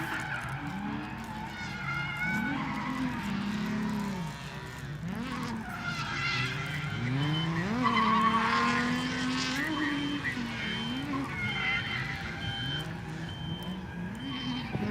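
Drift cars at a Drift Wars Double Top 16 competition, engines roaring and sweeping in pitch while tires squeal and skid through a run, loud and continuous, with a commentator speaking over it.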